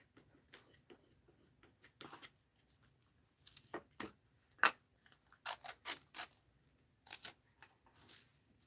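Scissors snip through paper at an art-journal worktable, a string of short crisp cuts in irregular bursts, close and fairly quiet, with no talking over them.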